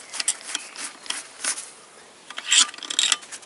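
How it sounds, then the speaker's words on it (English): A large crankshaft bearing bolt on a GM Ecotec engine is worked loose, giving a run of close, gritty scraping and rubbing sounds that swell and fade, with a louder grinding stretch near the end. "Then I open that bolt."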